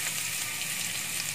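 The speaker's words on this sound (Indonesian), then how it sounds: "pete dan bawang putihnya kita masukkan. Nah, kita aduk sampai petenya matang dan layu ya." Petai beans and garlic stir-frying in hot oil in a pan, a steady bright sizzle with faint stirring, close and alone without talk.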